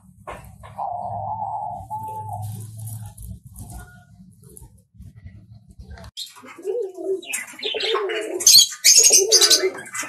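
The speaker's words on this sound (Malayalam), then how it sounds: "ഇപ്പോൾ നിങ്ങൾ കാണുന്നത് ഫാൻടൈൽ പീജിയൻ ആണ്" Fantail pigeons in a livestock setting give a low, throaty coo for a few seconds, then quieter scattered calls and chirps follow with some brighter bird noise near the end.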